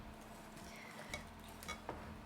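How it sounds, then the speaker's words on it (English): Two eggs are stirred in a bowl with a utensil, making faint, sparse clinks and scraping against a low background; no voices. "So I'm just gonna stir this up."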